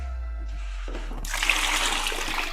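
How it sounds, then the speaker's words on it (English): Water from the drip tray of a Ninja Luxe Cafe espresso machine is tipped out into a sink, a steady pouring splash that starts partway in and runs to the end over a faint background hum. "So you can simply remove the drip tray and empty it."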